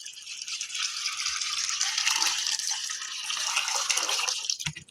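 Water pours from a drum into a bucket as a steady, close gushing splash that continues unbroken for several seconds and then cuts off abruptly at the end.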